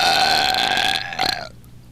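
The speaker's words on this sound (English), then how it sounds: "I think I got a big burp coming." One long, loud, close burp that holds a tonal pitch for about a second and a half, then breaks off into a short rough tail.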